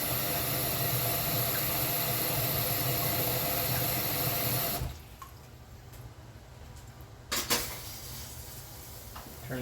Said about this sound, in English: I'll fill this pan back up so we can start heating it up